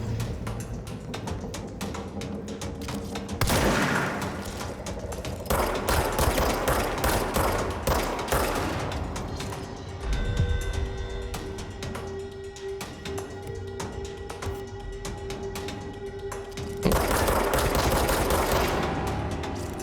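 Gunfire in the video game Control, with clusters of sharp, rapid shots bursting out loudly in short volleys over a steady background of game ambience, and no talking.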